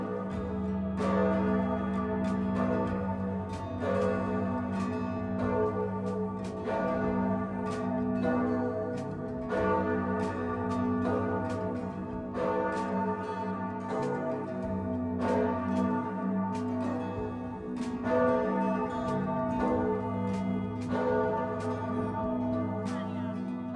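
A church bell in a Florence tower rings at noon, loud and close, with regular strokes about every two and a half seconds and long overlapping resonance, no talking.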